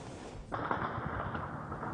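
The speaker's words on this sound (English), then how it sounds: "Heavy gunfire rang out Sunday close to the Kalong neighborhood of the Guinean capital Conakry" Heavy gunfire in Conakry, Guinea, a dense sustained crackle that bursts in suddenly after a quiet start and keeps rattling at a steady loudness, heard from some distance without talk.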